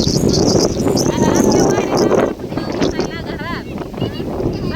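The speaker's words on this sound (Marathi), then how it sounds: "लय वारं वावदान सुटलंय" Strong wind buffets the microphone outdoors, a loud rumbling roar that dips partway through and then continues, with people talking over it.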